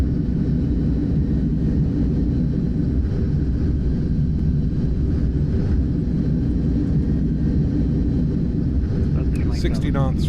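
An iniBuilds A310 airliner in Microsoft Flight Simulator roars steadily on the landing rollout with reverse thrust engaged. The heavy, unbroken engine rumble fills the whole stretch at a constant loudness.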